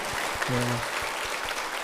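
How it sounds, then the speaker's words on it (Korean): A church congregation at a Korean church in Orange County applauds after a prayer, a brief dense wash of clapping beneath a low steady hum. "우리 박수로 한번 격려해 주시면 감사하겠습니다."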